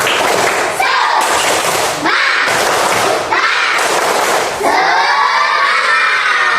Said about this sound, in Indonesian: coba Pak Rizky tes semangat kalian, coba tepuk semangat